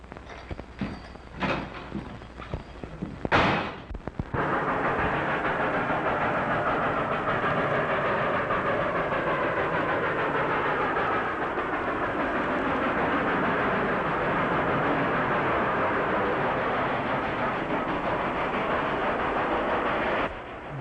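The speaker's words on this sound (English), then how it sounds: "It's a ghost train, all right." A train rumbling steadily along the rails, loud and close, with a sharp clank near the start followed by continuous rolling noise.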